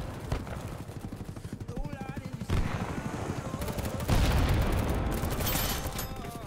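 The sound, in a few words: gunfire firefight in video game BattleBit Remastered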